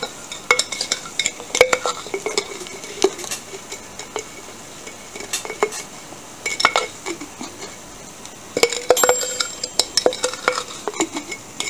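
Chicken stirred with date syrup in a bowl, irregular scraping and sharp clinks of a utensil against the bowl in uneven bursts, close and fairly loud, with no talking.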